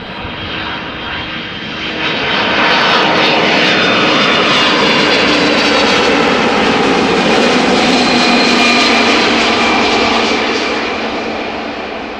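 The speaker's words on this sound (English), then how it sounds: "Airbus A300 just landed" An Airbus A300 jet landing at Amsterdam Schiphol Airport, its engines rising to a loud, broad roar that holds steady as it passes close by, then slowly fades.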